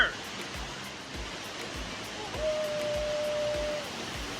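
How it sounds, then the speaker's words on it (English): Dunn's River Falls waterfall gives a steady broad rush of falling water, fairly faint and continuous, with a few soft knocks and a brief thin tone partway through. "We got the whole waterfall to ourselves!"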